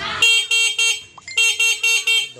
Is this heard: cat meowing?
no